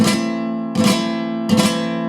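Three slow, soft strummed chords on a flamenco guitar in a sevillanas pattern, each ringing out and fading, played weakly without much attack.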